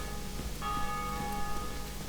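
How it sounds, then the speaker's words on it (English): Church bells ring near the Undead Church in the video game Dark Souls, a steady resonant chime that swells slightly and sustains over a low ambient rumble, with no voices. "bells are a bit louder up here because we're almost at the undead church."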